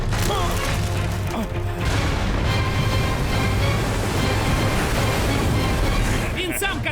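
Dense roaring noise of a storm at sea, with crashing waves and heavy rumbling, loud and continuous, with a voice speaking over it.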